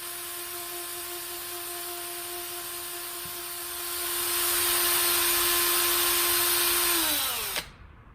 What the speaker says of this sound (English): use some 4-0 steel wool. I put the ring on the mandrel, spin it around in different directions, and I really work it very well